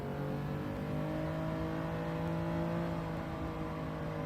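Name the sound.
road car engine revving in Gran Turismo 7 video game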